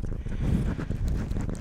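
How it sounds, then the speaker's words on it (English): Close, muffled thumps and scraping right against a microphone as a kitten bites it, an irregular run of small bites and chewing knocks with no voices. "Stop it. No, stop biting the microphone."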